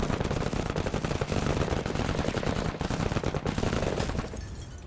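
Dense automatic gunfire from the video game Menace rattles continuously in rapid loud bursts, close and harsh, tapering slightly near the end.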